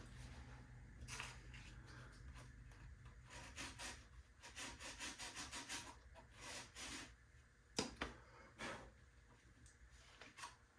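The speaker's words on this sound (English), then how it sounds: "Sanding it a little bit." Quiet rasping strokes of sandpaper on a mahogany kerfed back lining for a guitar body, uneven bursts of rubbing with short pauses between them.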